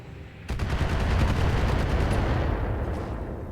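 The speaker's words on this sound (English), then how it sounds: "Their base turrets are shooting at me." Base turrets firing in the mech combat game Battletech, a dense, loud barrage of rapid gunfire that erupts suddenly after a quiet moment and keeps pounding steadily with no voices over it.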